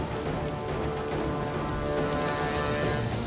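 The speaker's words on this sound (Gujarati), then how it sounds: "ધોધમાર વરસાદથી રસ્તા પર પાણી ભરાયા" Heavy rain pours down steadily in Gujarat, a dense, unbroken hiss of drops drumming on flooded streets, even and constant from start to finish.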